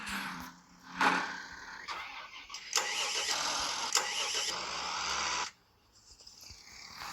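A tractor engine cranks and catches, roaring steadily for a few seconds before cutting out, with faint background noise around it.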